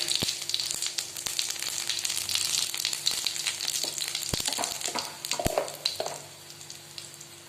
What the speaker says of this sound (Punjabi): ਤੇਲ ਗਰਮ ਹੋ ਗਿਆ ਹੁਣ ਆਪਾਂ ਇਸ ਵਿੱਚ ਪਾ ਦਿੰਨੇ ਆ ਜੀ ਦੋ ਲੌਂਗ ਤੇ ਤਿੰਨ ਚਾਰ ਕਾਲੀ ਮਿਰਚ